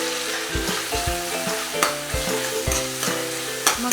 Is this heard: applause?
no